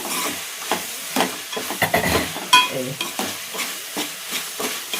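Turmeric being mixed into a bommidi fish curry in a pot, with repeated spoon strokes and a soft sizzle in rhythmic bursts, close by and moderately loud.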